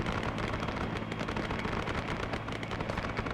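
Grenade explosions in the SOG survival campaign game, a dense continuous roar of blasts mixed with heavy gunfire, loud and unbroken for the whole stretch.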